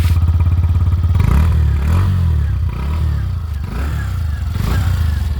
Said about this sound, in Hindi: इंजन की साउंड की, भगाने के टाइम पे ना पावर मोड में जब चलाएंगे बहुत ज़बरदस्त आवाज़ निकाल के करती है।